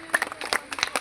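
Short burst of audience clapping at a religious bhandara gathering, welcoming a guest on stage, with uneven claps and a few voices mixed in.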